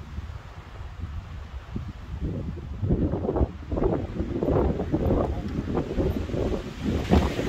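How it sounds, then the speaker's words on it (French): Strong wind buffets the microphone in heavy, roaring gusts that build and surge, with no voices. "le vent il s'arrête plus là, c'est un truc de fou"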